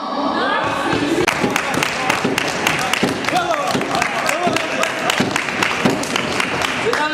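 A theatre audience applauds steadily with dense, uneven hand claps running the whole length, mixed with crowd noise and a voice speaking over it.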